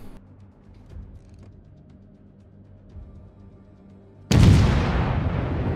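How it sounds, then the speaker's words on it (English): A single loud, broad boom from warship guns firing a volley in World of Warships, bursting in near the end after a quiet low engine rumble and lingering as a heavy rolling blast. "Fire a volley across this island"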